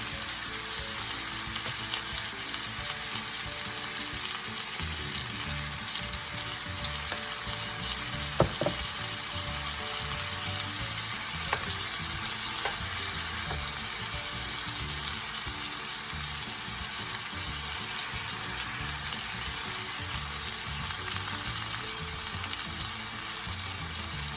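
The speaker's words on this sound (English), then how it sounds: "And start cooking the ground beef down." Ground beef frying in a pan with Worcestershire sauce, a steady close sizzle with occasional soft scrapes and stirring clinks throughout, no voices.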